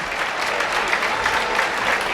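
A high school basketball crowd in a gym bursts into sustained applause after a player's 1,000th career point, dense clapping and cheering filling the space steadily throughout.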